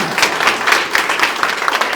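Audience applause breaks out at a motivational success-story event, a dense, loud wash of many hands clapping steadily without a pause.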